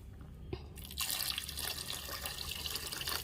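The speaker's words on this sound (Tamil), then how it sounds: "இப்போ ஒரு ஒரு டம்ளர் அளவுக்கு தண்ணி வந்து நம்ம சேர்த்துக்கலாம்" Water, about a tumblerful, pours steadily into a pot of quail curry with a bright splashing rush after a brief clink, continuing for a few seconds.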